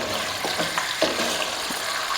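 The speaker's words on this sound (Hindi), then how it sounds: "जिसमें प्याज फ्राई किया था उसी में हम उसी ऑयल में हम ये चिकन डाल के इसको फ्राई करेंगे" Chicken pieces frying and being stirred in the onion-flavoured oil left from frying onions for a dhaba-style aloo matar chicken, a steady sizzle with a few scraping stirs close by, no talking.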